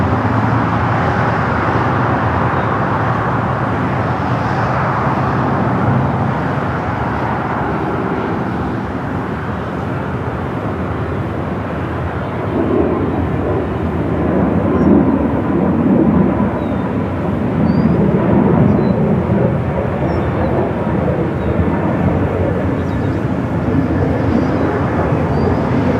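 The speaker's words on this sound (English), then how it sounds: "Followed by Delta, flight 2914, coming in from Seattle at A321 in Neo." A Delta Airbus A321neo arriving from Seattle on landing approach at LAX, a loud, steady jet roar that builds and swells as the airliner passes close by, with no talk over it.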